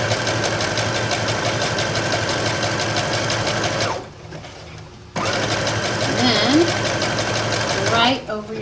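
A sewing machine runs close and loud as it zigzag-stitches a skirt, with a steady mechanical whir, a brief pause midway, then resumes while someone talks over it.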